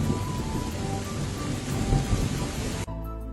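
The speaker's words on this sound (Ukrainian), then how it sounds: "Не лякайтесь! Літній дощик дуже короткий" Steady, short summer rain hisses alongside low rolling thunder, loud and close, before the sound cuts off abruptly.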